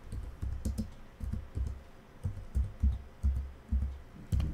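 Typing on a computer keyboard, with soft, close keystrokes tapping in short uneven clusters over about four seconds in a quiet room, no talk.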